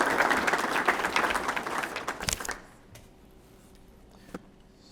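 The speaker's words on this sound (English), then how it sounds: "can we please go ahead and give her a round of applause?" At a Rotary CTE awards gathering, an audience applauds a retiring instructor who is absent. The clapping is brisk for about two seconds, then thins to a few final claps and a quiet room with one faint knock.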